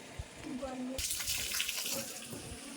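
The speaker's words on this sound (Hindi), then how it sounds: "पानी सिंचाई कर रहे बगीचों की।" Water gushing from a hose or tap while a garden is irrigated in Uttarakhand, a bright rushing splash that starts abruptly a second in and continues steadily, with faint voices and background sounds beforehand.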